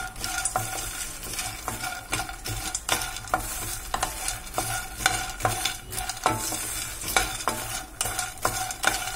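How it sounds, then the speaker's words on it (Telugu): Phool makhana (fox nuts) roasting in ghee in a pan: a steady sizzle with repeated scraping stir strokes and light clinks at an even rhythm, close and moderately loud, with no voices. "పూల్ ముఖానాని మనం ఘీ వేసి వేయించుకుంటే టేస్ట్ బాగుంటుంది అన్నమాట"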